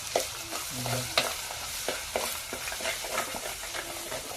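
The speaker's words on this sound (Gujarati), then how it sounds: "તો આપણે વઘારવા બેસી ગયા છે." Hot oil sizzling loudly as spices are tempered, with a spatula scraping and stirring in quick irregular strokes, close by and without any voices.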